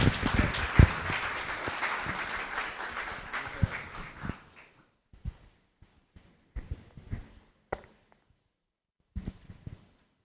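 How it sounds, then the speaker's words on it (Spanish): An audience at a conference lecture gives a burst of applause welcoming the speaker, Nicolás Kasanzew. The clapping is dense and steady for about four seconds, then thins to scattered claps and quiet gaps. "Recibimos con un fuerte aplauso a Nicolás Casanseu."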